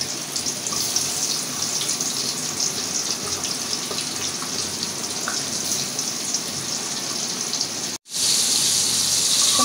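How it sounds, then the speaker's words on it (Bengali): Hilsa fish marinated with turmeric, salt and chili fries in hot oil, giving a loud, steady, dense sizzle that cuts out abruptly for an instant near the end before resuming. "তোমার মাছ ভাজিটা হয়ে গেছে, আমি হালকা করে ভেজে নিলাম।"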